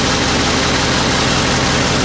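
The original Ford 351 two-barrel V8 in a 1970 Torino GT convertible idles loud and close, giving a steady, even rumble with no voices over it.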